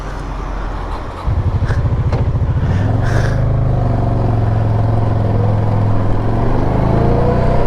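A motorcycle engine in a racing video game (PT2YT, PC) idles low, then rises into a steady, sustained drone that holds at a loud, even level throughout, with a brief rev burst early on.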